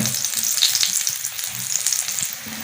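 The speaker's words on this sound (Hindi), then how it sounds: "पराठे जो है ना घी के अंदर बनते हैं" Parathas frying in ghee on low heat, a dense, bright sizzling crackle that stays steady and close throughout, with faint soft stirring or shifting underneath.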